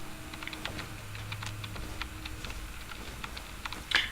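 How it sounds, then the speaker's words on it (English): Computer keyboard keys pressed while playing Fallout, rapid light clicks in irregular bursts close to the microphone over a faint low game hum, ending with a louder clack. "Sorry if you guys can hear me pressing my keys."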